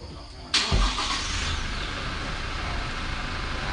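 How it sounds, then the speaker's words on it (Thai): A 2020 Toyota HiAce van engine cranks briefly and catches, then settles into a steady idle rumble, heard close by. "เครื่องยนต์ยังดับอยู่สตาร์ทเครื่องนะครับ"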